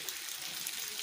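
Water falling from above inside the Pandav Leni rock-cut caves in Nashik, a steady hissing splash that stays continuous and fairly close throughout, with no talking.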